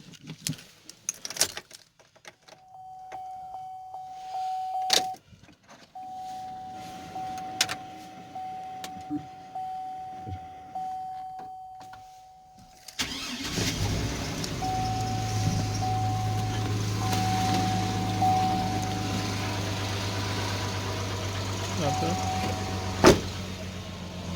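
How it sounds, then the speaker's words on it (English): A 2003 Chevy Silverado step side with a 4.3 liter engine, rusty and long unused, has a door chime pinging and keys rattling before the engine cold-starts and settles into a steady, low idle rumble. "we're going to do a cold start on this truck"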